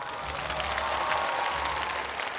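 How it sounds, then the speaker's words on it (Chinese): A studio audience at a televised comedy show breaks into applause, dense steady clapping close and loud with faint crowd noise and a low musical bed beneath. "掌声在哪里？"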